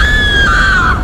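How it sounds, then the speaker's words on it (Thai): A woman screams at full voice as a sound effect in a Thai horror story, one loud, sustained, high-pitched cry that bends slightly downward and fills the whole second, with no talking over it. "หญิงสาวกรีดร้องออกมาสุดเสียง"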